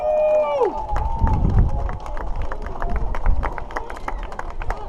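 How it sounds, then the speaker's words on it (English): Crowd cheering at the Menai Strait raft run, a mix of shouts and whoops from many people outdoors, with a sliding whistle or horn early on and voices calling throughout. "Come on, give us a cheer."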